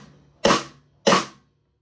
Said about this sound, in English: So right hand lead on the flam.